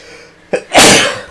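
A single loud sneeze from a person, a short sharp intake followed by a bursting explosive release, close and alone.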